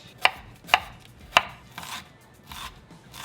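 A knife chops red onion on a board in three sharp, crisp cuts spaced about half a second apart, followed by softer scraping and slicing sounds, close and clear with no talking.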